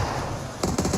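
A rapid burst of automatic gunfire rings out in a PUBG esports match, with a string of sharp, quick shots after a short stretch of background noise.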